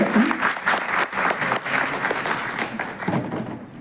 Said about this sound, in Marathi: आपण जोरदार एक टाळ्या सगळ्यांसाठी